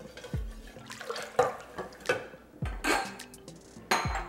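Melted candle wax is poured from a container into several vessels, giving light clinks and knocks of glass and metal with brief liquid sounds, close by and spread irregularly over a few seconds.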